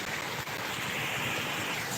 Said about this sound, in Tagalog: Tuloy-tuloy na umaagos ang tubig.